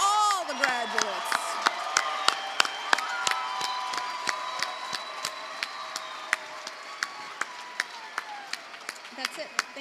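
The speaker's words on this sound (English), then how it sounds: "Okay, big round of applause for all the graduates." A crowd applauds and cheers for graduates at a high school graduation ceremony, with sharp scattered claps and a few whoops over a murmur of voices and background chatter.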